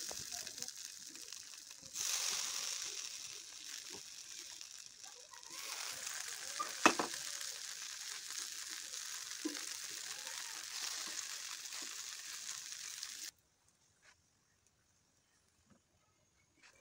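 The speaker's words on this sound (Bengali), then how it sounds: "ডিপ ফ্রাই করছি না, শ্যালো ফ্রাই করছি অল্প তেল দিয়ে" Dhokar lentil cakes shallow-frying in a little oil in a pan give a continuous fine sizzle with the odd scrape and clink of stirring, then the sizzling stops and near silence follows.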